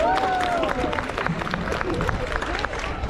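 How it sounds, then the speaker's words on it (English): A crowd applauds at a poultry show, steady clapping mixed with cheering and a whistle-like tone near the start, with voices talking over it. "Can we give them another round of applause?"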